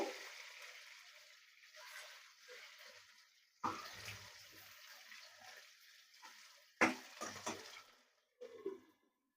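Chicken pieces frying in a pan, a soft continuous sizzle that swells into sharp, louder crackling bursts as the pieces are turned, then drops back to a quiet hiss.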